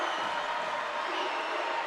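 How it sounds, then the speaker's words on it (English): A college basketball crowd in a North Carolina State versus North Carolina game roaring at full throat, a dense, steady wall of loud cheering. "Crowd at full throat."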